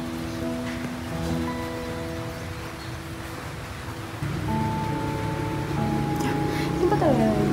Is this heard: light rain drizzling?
yes